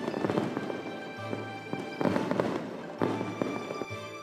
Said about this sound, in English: the sky is filled with a rainbow of fireworks.